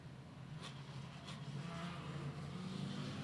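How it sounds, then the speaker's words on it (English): Modified production race car engines at Gympie Speedway drone together in a low, steady roar heard from a distance, swelling slightly as the field gets underway. "We're off and running now straight away as Craig"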